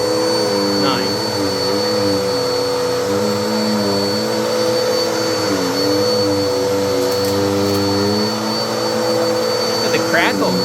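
A Bissell CleanView 2492 cyclonic vacuum cleaner runs with a loud, steady whine and a constant motor drone from start to finish, with small shifts in pitch as it moves.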